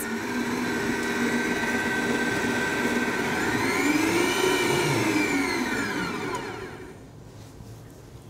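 An electric mixer beats choux pastry dough with eggs added, a steady loud whirring drone whose pitch rises as the speed increases, then eases down near the end, with no talk.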